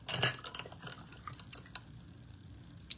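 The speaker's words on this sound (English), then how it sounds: "let me rinse my brush out" Paintbrush rinsed in water while painting a beach scene: a cluster of clinks and splashy knocks near the start, then light scattered taps and drips fading into a quiet room.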